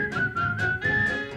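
Someone whistles a cheerful tune on a television variety show set at Disney World, with a run of short, bright, evenly spaced notes over a soft musical backing and no talking.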